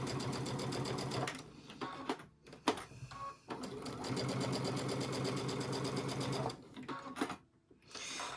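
An embroidery sewing machine stitches a blooming basket design in a hoop, running in fast mechanical bursts broken by a few brief pauses.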